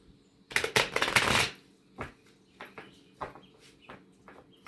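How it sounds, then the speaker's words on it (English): A burst of tarot cards being shuffled, a rapid riffling flutter, followed by a few softer scattered taps and flicks as the deck settles. "Give it a shuffle."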